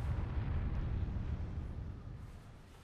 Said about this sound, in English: my controller's vibrating ridiculously with every explosion